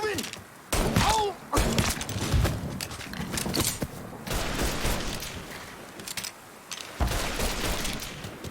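Bursts of gunfire from the video game Mafia 3 crack and thud in rapid clusters, with shouting voices and game noise between the volleys.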